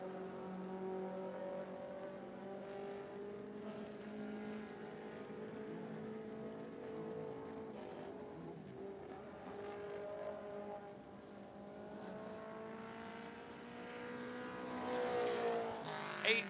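Mini stock race cars circling a speedway oval during qualifying, their engines droning at a moderate distance in a rising and falling whine that swells louder toward the end as a car passes closer.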